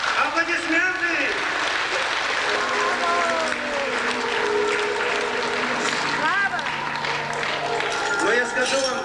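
Sustained audience applause at a concert show in a philharmonic hall, a dense wash of many hands clapping, with a voice speaking over it throughout.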